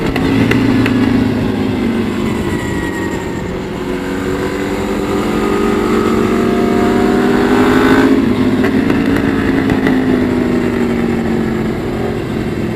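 An EBR 1190 RX sport motorcycle laps a race track, its engine climbing through quick-shifted gears with rising and falling pitch, loud and continuous under wind roar with no talking.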